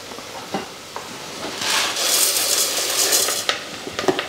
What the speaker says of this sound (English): We're going to add our arborio rice.